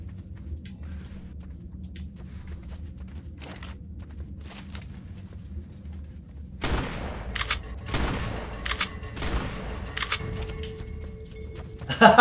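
Gunfire in the video game ARK: The Island, faint scattered shots at first, then a burst of loud, rapid cracks and bangs, with a final sharp report at the end.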